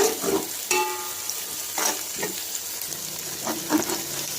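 Chicken stir-frying in a pan for desi-style Chinese fried rice: a close, steady sizzle with intermittent scraping and tossing bursts from the spatula every second or so.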